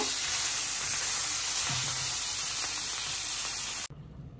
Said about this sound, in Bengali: এই যে এখানে দিয়ে দিচ্ছি জিরা, তেজপাতা আর শুকনো মরিচ একটা, আর একটু আদা কুচি, আর ইলিশ মাছের মাথাটা দিয়ে একটু ভেজে নিতে আসি।